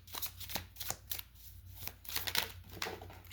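Tarot cards being handled and pulled from a deck, with several soft, close papery slides and flicks in an irregular rhythm over quiet room tone.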